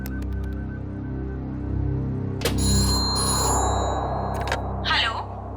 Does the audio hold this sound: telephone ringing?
yes